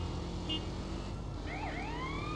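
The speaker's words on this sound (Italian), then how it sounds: "Ma togli sta sirena." A police-style vehicle siren wails with rising and falling sweeps over steady engine and traffic noise in the video game GTA San Andreas; no one speaks.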